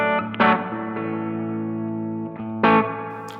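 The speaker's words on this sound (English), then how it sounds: "the spring reverb is one of the hardest reverb types to emulate digitally" A distorted electric guitar plays sustained chords through the spring reverb on a Crazy Tube Circuits Sidekick Jr pedal, with sharp re-struck attacks and a lingering reverberant tail.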